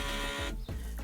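A NEJE laser engraver switching on and running its self-check, giving a close mechanical whir with a brief pause partway through before the motor noise resumes, with no voices.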